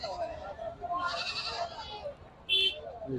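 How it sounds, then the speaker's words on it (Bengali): Goats bleating at a busy goat market where many large castrated goats are tied up for sale, one sharp bleat standing out near the end over steady crowd noise and someone talking. "কি বড় বড় ছাগল হচ্ছে"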